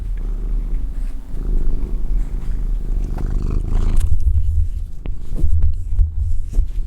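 A close, rumbling cat purr throbs low and steady, with a few soft clicks and handling noises over it.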